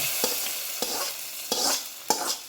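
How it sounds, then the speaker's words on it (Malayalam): Hot tempering of fenugreek, neem leaves and chili poured into a curry, loud close sizzling bursts in four sharp surges with stirring scrapes between, no voices. "ഉലുവയും വേപ്പിൻ്റെ ഇലയും മുളകൊക്കെ നോക്കിച്ചത് നമ്മൾ കറിയിലേക്ക് ഒഴിക്കുന്നു"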